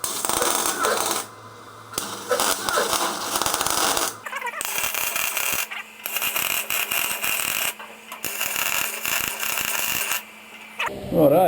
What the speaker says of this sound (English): I'm going to go welding away.